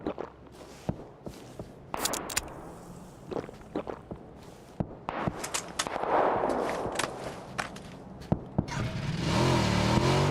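Gunfire in PUBG, with sharp shots and short automatic bursts scattered through the clip, mixed with footsteps and a vehicle engine that grows louder toward the end.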